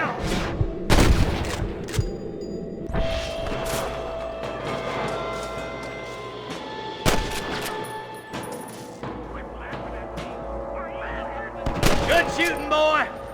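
Gunfire rings out in a video game shootout: scattered sharp shots and rapid bursts, some loud and close, some further off, mixed with game music and spoken dialogue from characters.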